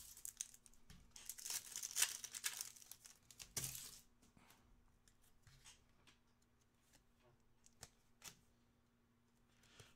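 Thin tissue-paper wrapping inside a 2021-22 Topps UEFA Champions League hobby box pack crinkles softly and close for a few seconds, followed by faint scattered ticks and rustles.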